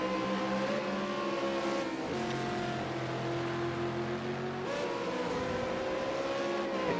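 Racing cars roar past one another on Mountain Straight at Bathurst's Mount Panorama in a V8 Supercars video game, with steady, loud engine drones whose pitch shifts and resets as cars overtake in the slipstream.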